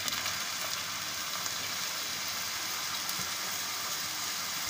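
Chopped potatoes go into a pan of softened onions sautéing on the stove, producing a continuous, even hiss of frying oil that stays loud and steady throughout.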